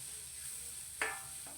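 Coconut mixture for spinach thoran sautéing in a pan, a faint, steady sizzle broken by a sharp scrape or stir near the end.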